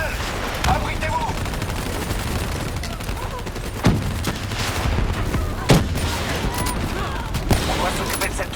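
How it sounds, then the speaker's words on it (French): An automated turret fires in Call of Duty Black Ops 3 amid a dense battle: a continuous roar of rapid gunfire with occasional sharper bangs, loud and unbroken, with voices shouting in the mix. "Tourelle! Abritez-vous!"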